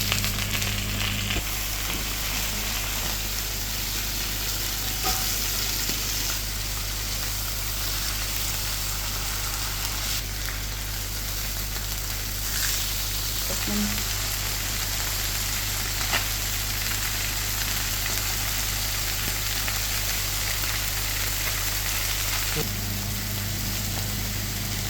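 Salt fish sizzles continuously in olive oil in a pan, a dense, even frying hiss running throughout with small crackles and occasional utensil taps close by.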